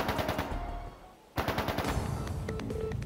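Bursts of rapid automatic gunfire in the video game Trails of Cold Steel 3 rattle in quick volleys, broken by a brief pause before the firing resumes, fairly close and sharp.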